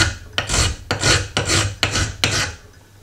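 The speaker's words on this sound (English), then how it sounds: "I can just take a file and get rid of that little nubble that I do not want" Metal file rasping a burr off a screw thread held in a vise, five quick, loud back-and-forth strokes in a steady rhythm, close up with nothing else heard.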